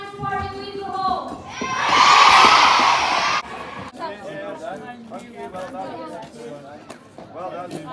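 A primary school crowd cheers in a loud burst as the Cornet and his party leave during a Common Riding event, with children shouting before an adult voice talks over the settling chatter.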